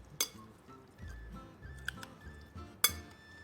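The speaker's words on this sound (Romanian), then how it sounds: "Începem și amestecăm." Sauce being stirred into an Easter potato salad, with soft clinks of a utensil against a bowl and faint squishy mixing sounds, a few sharper taps standing out, no talking.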